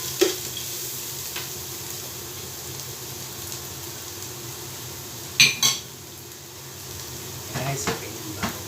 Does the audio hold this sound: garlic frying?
yes